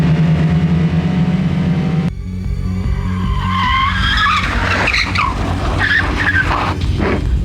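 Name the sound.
racing cars skidding on track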